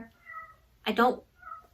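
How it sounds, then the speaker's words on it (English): A pet cat meows at a door wanting to be let in: one loud, close meow in the middle, flanked by fainter, drawn-out cries. "You can probably hear my cat meowing because he's at the door wanting in"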